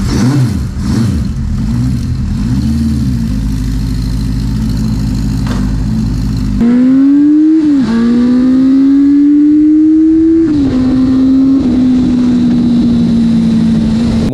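A vintage French four-cylinder, eight-valve motorcycle engine runs loud and close, a steady throbbing idle that breaks into rising revs with pitch swoops and dips between throttle blips.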